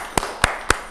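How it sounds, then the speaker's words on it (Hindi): An audience at a live stage show gives three sharp, isolated hand claps, evenly spaced and fairly close, with no crowd swell or talking around them. "तालियां तो बजाएं आप लोग"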